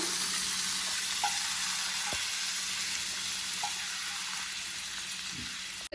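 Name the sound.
garlic frying in oil in a pan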